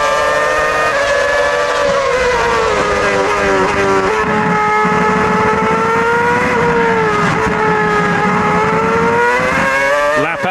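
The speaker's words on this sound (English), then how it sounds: "You're riding on board with Kimi Räikkönen down in 12th place, battling with Jenson Button just in front of him in the Honda" Onboard a 2007 Formula 1 car driven by Kimi Räikkönen at the Monaco Grand Prix in Monte Carlo, the engine screaming loudly and continuously close to the microphone, pitch rising and dipping through gear changes and corners.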